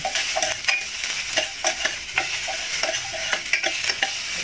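Chopped onion and garlic sizzle steadily in a hot pan for a Filipino monggo and ampalaya leaves sauté, with a spatula scraping and stirring in quick repeated strokes throughout.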